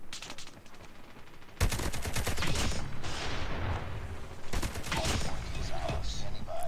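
Loud bursts of rapid automatic gunfire from the COD Mobile shooter game, with an ASM10 rifle in play, break out after a quiet start, pause briefly, then resume in dense volleys while a player talks over them.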